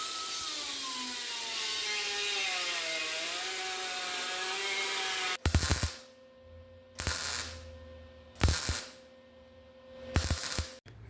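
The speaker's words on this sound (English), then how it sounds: "Take the little die grinder," A small die grinder cutting an opening in a custom tin valve cover: a steady, loud, high-pitched whine runs for several seconds, then four short bursts of grinding follow with brief pauses between them.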